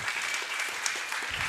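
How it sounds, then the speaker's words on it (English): An audience at a Marvel Contest of Champions Summoner Fest brawl finals applauds its commentators, a brief burst of steady clapping filling the room. "let's please hear a big round of applause to our commentators"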